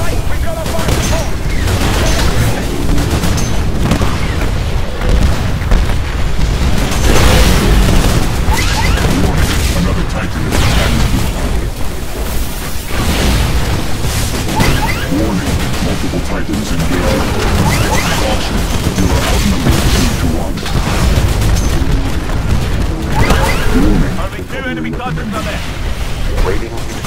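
Fire support explosions rain down in Titanfall's Last Titan Standing mode on the Colony map, a loud, dense barrage of booms, crashes and gunfire running continuously, with in-game voice announcements over the chaos.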